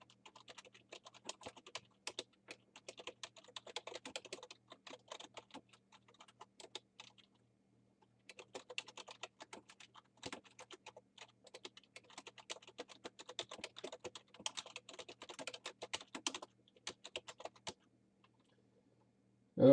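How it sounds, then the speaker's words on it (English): Someone types heading text for a term paper into a Word 2013 document on a computer keyboard, a steady run of quick key clicks in two long bursts with a short pause between them. "I'm going to type in a little bit of heading information here."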